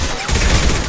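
Rifle gunfire in Mass Effect 2, a loud, dense volley of rapid shots blurring together in a brief burst during combat.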